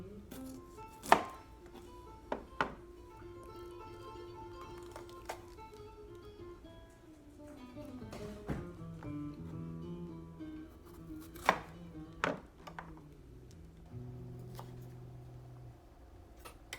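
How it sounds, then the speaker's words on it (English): A knife chops green pepper on a cutting board, giving scattered sharp taps with uneven pauses under a faint background hum. "And one green pepper diced."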